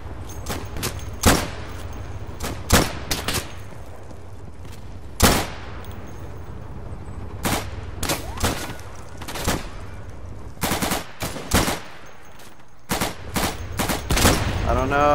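Sharp rifle and machine-gun shots crack in irregular bursts and single reports across a World War II Battle of the Bulge firefight in Day of Infamy, loud and close over a low rumbling background.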